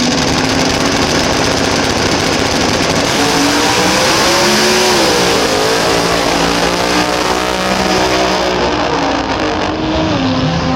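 Drag racing car engine roaring at Willowbank Raceway during a Brisbane jamboree, a loud continuous high-revving run with shifting pitch sweeps, heard close and alone for the full stretch; the car reportedly did not sound right through half track.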